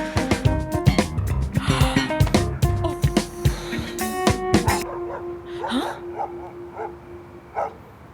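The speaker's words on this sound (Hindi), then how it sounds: "ये कुत्ते क्यों इतना भौंक रहे हैं?" Several dogs bark rapidly and loudly at night close by, a dense burst of overlapping barks that thins out into scattered yips and whimpers.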